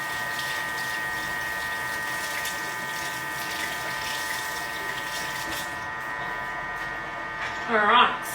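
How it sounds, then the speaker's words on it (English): Hands washed under a running kitchen tap, a steady close hiss of water that ends near the close with a brief splash and clatter. "Let me give my hands a quick wash."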